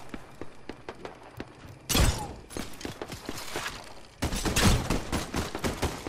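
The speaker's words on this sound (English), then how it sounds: "Oh, someone is shooting at us." Bursts of rapid gunfire in Fortnite Battle Royale, sharp repeated shots at first, then two loud, dense volleys of crackling fire, close and heavy.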